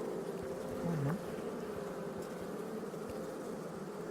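Steady droning buzz of many honeybees around a domestic hive, dense and continuous, with one bee swooping close past at one point.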